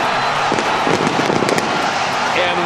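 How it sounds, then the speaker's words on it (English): Fireworks bursting over a ballpark after a game-winning home run, a loud roar of crackling bangs and crowd noise, with a broadcaster talking over it. "what a major league debut for Montgomery. Great Fireworks"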